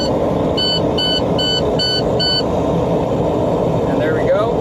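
Truck air-brake low pressure warning alarm: a steady series of six evenly spaced electronic beeps that then stops, over a continuous idling diesel engine rumble inside the cab.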